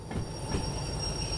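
A train in the Derail Valley video game rumbles steadily at close range, with low rolling noise, faint high wheel squeal and a droning tone.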